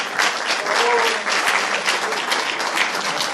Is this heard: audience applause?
yes